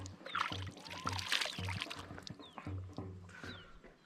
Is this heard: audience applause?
no